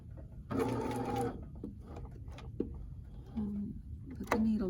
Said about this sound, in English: I'm going to continue sewing all the way around